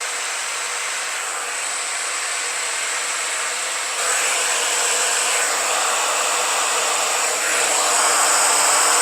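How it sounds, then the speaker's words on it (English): Hair dryer blowing while curly hair is styled, a loud, steady airy whoosh that runs continuously and steps up slightly in intensity twice, with no talking. "I'm hot from having the hair dryer going"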